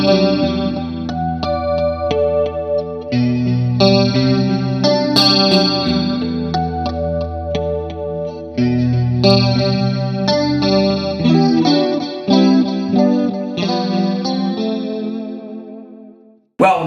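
An electric guitar played through pedals with chorus and delay rings out in sustained, shimmering chords and notes with echoing tails, loud and alone, with no talking.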